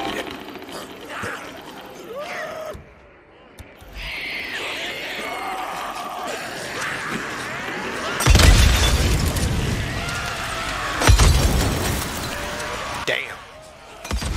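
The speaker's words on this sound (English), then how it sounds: "A couple napalm molotovs would at least take half?" Napalm molotovs burst in a game while clearing hordes at Belknap Crater, Twin Craters and White King Mine, with loud rumbling fiery booms swelling over a steady roar of crowd-like growling and clatter.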